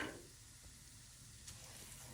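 Semolina fries in ghee with spices in a frying pan, giving off a faint, steady sizzle with soft hissing throughout.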